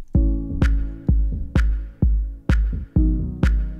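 A produced drum beat pounds out deep, booming kicks in a steady pulse, a soft, relaxed snare landing on every other kick, close and punchy with no voices.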